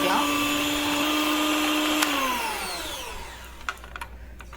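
A handheld electric mixer fitted with a dough hook kneads chapati dough, its motor whining loudly and steadily before slowing and winding down, followed by a few light clicks and knocks.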